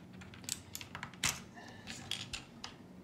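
Typing on an OMOTON MK201 tenkeyless mechanical keyboard with Outemu Blue switches gives a quiet, irregular run of sharp clicky keystrokes, close up with no voices.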